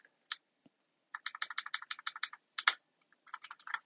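Computer keyboard keys clicked in quick clustered bursts while shortcut commands are entered to build tables in a Korean word processor; crisp, close taps with short pauses and no voices.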